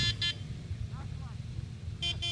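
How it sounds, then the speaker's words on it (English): Two short bursts of a vehicle horn, a quick double toot at the start and again near the end, over rumbling engine noise. "Preemptive horn honk for Sam as he drops into the sand wash."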